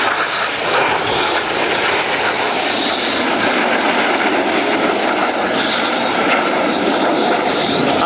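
A loud, continuous roar of Patrouille Suisse jet engines flying a display formation fills the air overhead, steady and broad without pause.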